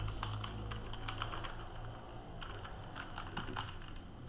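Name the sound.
typing on a malfunctioning computer keyboard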